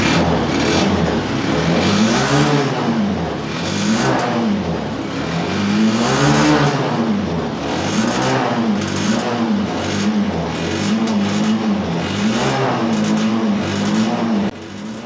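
A TMX 125 Alpha motorcycle engine runs roughly and intermittently, its loud close engine note surging and sagging in a repeating uneven rhythm throughout.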